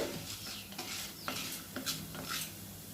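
Chillies and spices being stir-roasted in a pan for pirandai thuvaiyal, a soft continuous sizzle with several sweeping spatula scrapes close by, no one speaking.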